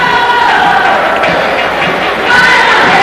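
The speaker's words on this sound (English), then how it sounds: "St. Stephen's cheerleaders again exhorting the crowd." A roaring hockey arena crowd at a high school game, stirred up by cheerleaders, a dense steady wall of cheering and noise throughout.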